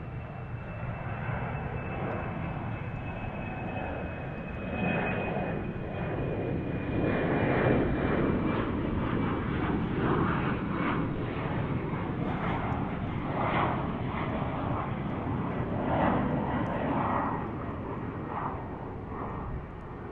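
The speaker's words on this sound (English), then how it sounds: "Speaking of Aero Mexico Connect, there it is on the E190." An Aeromexico Connect Embraer E190 jet airplane at DFW airport gives a sustained engine roar with a faint whine, swelling louder in the middle and easing slightly toward the end, heard alone at a distance.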